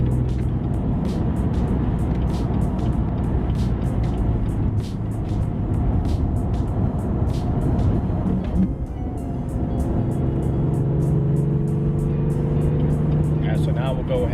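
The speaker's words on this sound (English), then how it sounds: "So doing spark plugs, I usually tend to give her a little juice, make sure she doesn't break up in the higher RPMs" BMW M3 engine after a spark plug change, a steady loud rev held close by for most of the time, then easing to a lower idle near the end.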